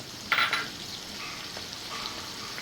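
Curry leaves and green chillies hit hot oil in a pan with a sharp burst of sizzling, then settle into a steady, softer crackling hiss with occasional small pops.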